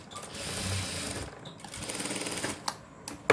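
A sewing machine stitches a dart on a boat neck blouse, a close, fast mechanical whirring in two short bursts with a brief pause between and a sharp click at the end.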